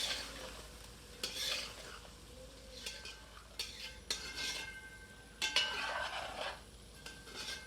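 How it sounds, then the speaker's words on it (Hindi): Korma with spices and salt is stirred in a pan over medium heat: a ladle scrapes and clinks against the metal in short strokes over a soft steady sizzle, close and fairly quiet. "सबको मिलाकर 2 से 3 मिनट मध्यम आंच पर पकाते हैं।"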